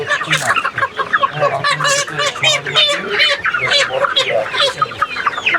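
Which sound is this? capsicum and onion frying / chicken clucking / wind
chicken clucking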